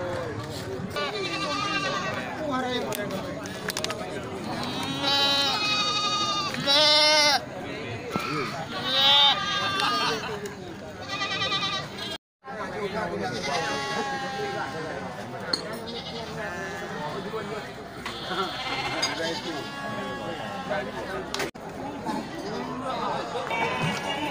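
Goats bleat repeatedly at the Grogol livestock market, many calls overlapping close by amid crowd chatter and people talking, with a busy, lively market din throughout.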